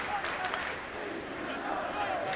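A large crowd at a 2006 college football game between Tennessee and Air Force murmurs and swells as a steady, distant roar filling the stadium, with a faint commentator's voice underneath.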